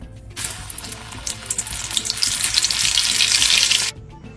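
Floured, seasoned shrimp drop into hot grease and fry with a sudden loud hissing sizzle that swells and holds steady before cutting off abruptly, close and without talk.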